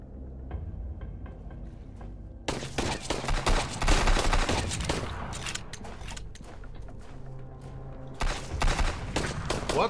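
Rapid bursts of gunfire ring out during a fight in the survival video game Sunkenland, including shotgun blasts, loud and close, with dense volleys and sharp single shots while a voice talks excitedly over them.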